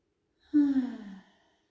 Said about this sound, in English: exhaling through the mouth deeply